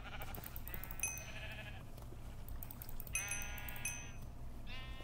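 Sheep bleat in the Minecraft video game, with three short, nasal bleats spaced a couple of seconds apart over a low, steady game background.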